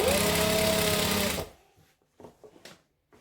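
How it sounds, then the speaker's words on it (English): A sewing machine stitches through two thick layers of fabric for a Christmas tree skirt, a loud, steady whirring run that cuts off abruptly, followed by a few quiet clicks and handling sounds. "So I'm sewing 2 thick ones together"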